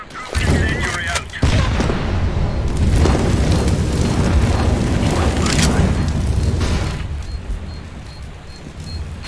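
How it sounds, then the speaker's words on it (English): Counter-Strike flashbang grenade thrown during a professional match on the Inferno map, heard as loud booming bursts amid dense gunfire and game noise, with a voice talking over it. "I am throwing a flashbang."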